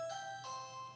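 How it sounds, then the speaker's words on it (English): A doorbell chimes indoors in two tones, a higher ding followed by a lower dong, ringing clear and fairly near with no talk over it. "that's the doorbell."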